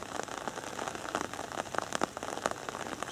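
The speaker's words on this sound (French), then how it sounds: "Avec la pluie, ça va brouiller un peu." Rain falling in a forest during a hike in the Creuse countryside, a steady close patter of drops hitting leaves and ground, soft and continuous with no voices.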